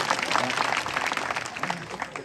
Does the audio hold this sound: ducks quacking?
no